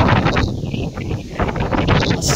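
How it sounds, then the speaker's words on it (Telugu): Cool wind gusts across the microphone beside a temple at sunrise, a loud, steady rushing buffet with some rustling, and no voices. "గాలి చల్ల గాలి వస్తుంది"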